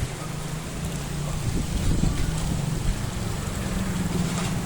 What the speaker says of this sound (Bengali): হঠাৎ দেখলাম একটু ঝড় উঠেছে